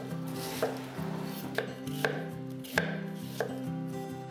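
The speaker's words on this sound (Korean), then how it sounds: "양파 2분의 1개는 채 썰어주세요." A knife julienning half an onion on a cutting board, with about five crisp chopping knocks at an uneven pace over steady low background music, close and clear.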